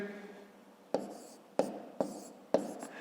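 A pen or pencil writes numbers by hand on paper during a fifth-grade maths exercise, four sharp tapping strokes with soft scratching between them, close and quiet.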